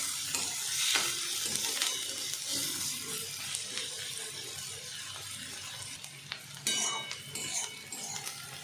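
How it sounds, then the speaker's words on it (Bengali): Sliced onions frying over a high gas flame to make beresta for a broiler chicken curry, a steady close sizzle with occasional scrapes and clinks of a spatula stirring in the pan. "আমি গ্যাসের ফ্লেমটাকে হাই করে নিয়েছি, দিয়ে বেরেস্তাটা করে নিচ্ছি।"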